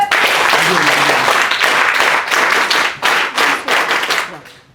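Sustained applause from an audience at an NCC ceremony during a college lecture at Daulat Ram College, a dense, loud wash of clapping that holds steady and then breaks into uneven bursts before fading out at the end.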